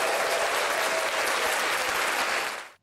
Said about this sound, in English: That's the applause I was after.